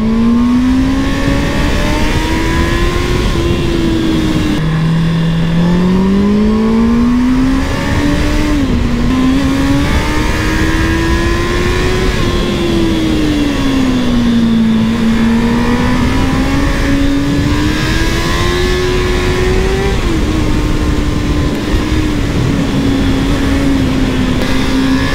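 Volkswagen Golf engine revving hard in second gear on a mountain pass road, a loud, continuous close-up drone rising and falling in pitch with a brief dip around a gear change, no talking.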